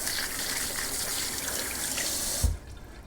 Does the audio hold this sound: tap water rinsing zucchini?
yes